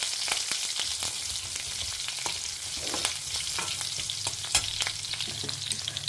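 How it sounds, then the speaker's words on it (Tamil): Garlic and curry leaves crackling in hot oil after mustard seeds, a continuous busy sizzle dotted with sharp pops and stirring clicks, moderately close. "பூண்டு பார்த்தீங்கன்னா நல்லா பொரிய ஆரம்பிச்சிடுத்து."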